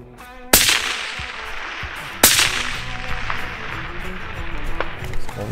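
Two sharp, loud rifle shots ring out about two seconds apart at a long-range shooting session, each a hard crack followed by a lingering echo trail, with no talking.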